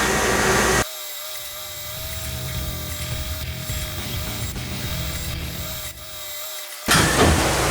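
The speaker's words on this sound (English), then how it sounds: "because we're going to be drilling the valve guide holes, we use a centre drill." Steady mechanical grinding and whirring of a centre drill cutting valve guide holes in a Rover V8 cylinder head, continuous for several seconds, with a brief dip near the end before louder workshop noise returns.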